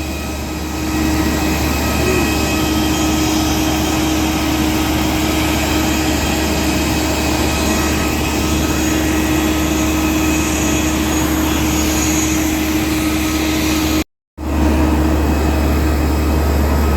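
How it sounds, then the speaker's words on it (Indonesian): Steady loud drone of an ATR turboprop airliner's engines at an airport bound for Nias, holding a constant tone for the whole stretch with a brief dropout near the end, no talking over it. "ada pesawat mau ke Nias"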